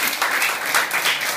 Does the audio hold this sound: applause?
yes